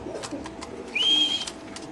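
A pair of Giribaz pigeons coos close by, one short rising call standing out over quieter soft cooing and light background rustle, with no one speaking.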